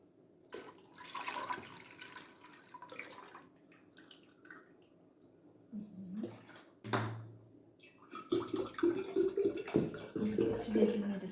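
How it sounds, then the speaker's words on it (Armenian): Cherry juice being poured into a pot for a sweet sujukh, heard as splashing, gurgling liquid that swells toward the end after quieter handling noises, with a brief voice partway through. "ավելացնում եմ նորից 2 լիտր հյութ, բալի հյութ եմ ավելացնում 2 լիտր"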